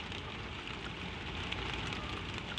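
Steady rain drumming on a roof, an even, unbroken wash of patter heard from indoors under the eaves, moderately soft and continuous with no voices.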